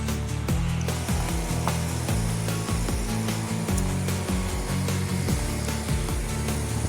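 A Nowa 12-litre OP 1512o battery backpack sprayer runs with a double nozzle, its pump making a steady close whirring drone broken by repeated short surging pulses. No one speaks.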